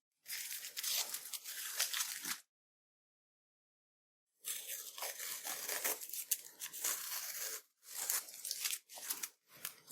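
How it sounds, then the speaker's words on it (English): Masking tape being peeled off a gouache landscape painting, a close, crackling tearing sound in several strips with a long silent gap between pulls and shorter bursts toward the end. "Always pull the tape away from the painting."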